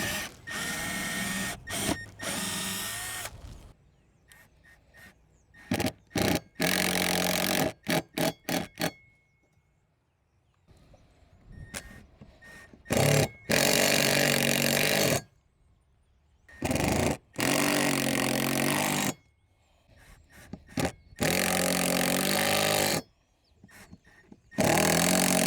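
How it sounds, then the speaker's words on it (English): Power drill boring holes to install a BoatEFX dual bow mount on a boat, heard as several loud whirring bursts of a few seconds each, separated by short pauses, close by with no talk. "and then we'll go ahead and drill all the holes."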